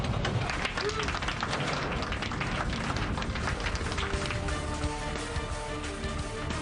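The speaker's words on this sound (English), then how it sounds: "There's a spontaneous outbreak of applause." Passengers clap together inside an airplane cabin right after a rough landing, a dense continuous patter of hands over steady cabin engine roar, with some chatter mixed in.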